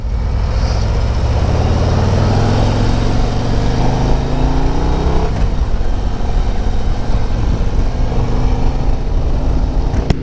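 A 2024 Harley-Davidson motorcycle engine drones loudly and continuously while riding, its pitch rising as it accelerates, with wind rush underneath.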